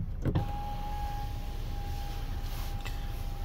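Electric motor of the panoramic sunroof on a 2024 Hyundai Kona Preferred Trend AWD runs in a steady whine after a soft click, heard from inside the car with no talking.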